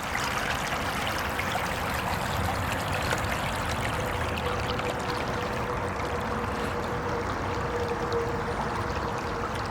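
A shallow stream about four inches deep babbles and trickles steadily over stones, a continuous close rushing flow with no voices.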